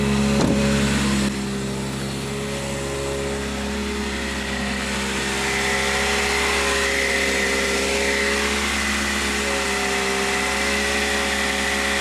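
Steady engine drone from a supercharged Toyota Celica idling unevenly, with a throttle body or cable fault, heard up close and alone with a constant hum and faint whine throughout.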